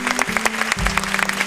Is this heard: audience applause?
yes